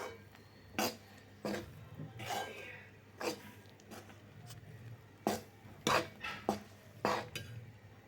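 Adhirasam mixture of jaggery syrup and flour stirred slowly in a pan off the heat, irregular scraping and knocks of the utensil against the metal, fairly quiet and close.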